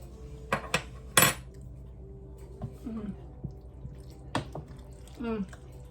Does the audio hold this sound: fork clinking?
yes